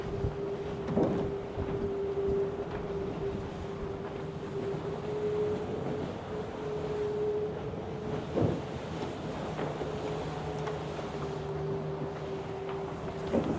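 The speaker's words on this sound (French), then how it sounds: "Il y a du vent de sud là." Steady south wind and sea noise aboard a racing trimaran at sea, a constant rushing roar with a low steady hum from the boat and occasional knocks.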